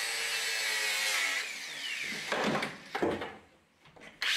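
An angle grinder cuts a part off a budget hatchback being built into a race car, giving a loud, continuous high whine that shifts in pitch, then breaks into rough, uneven grinding bursts.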